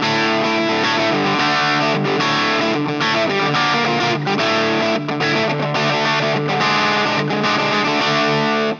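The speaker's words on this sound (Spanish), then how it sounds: "Vamos a poner un poquito de reverberación." A guitar plays through a cheap budget pedalboard with reverb and gain added, a dense, distorted, sustained tone with rhythmic chord changes, loud and continuous to the end.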